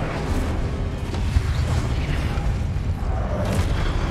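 Incendio fire spell cast in Hogwarts Legacy on PS5, a sustained roaring, booming burst of flame with rumbling low impacts throughout.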